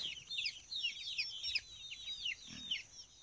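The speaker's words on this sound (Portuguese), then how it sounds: "Tem pinto esparramado para todo canto aí." Chickens and chicks in a rural farmyard henhouse, a busy layer of high peeping and clucking calls repeating throughout, fairly close, with no talk.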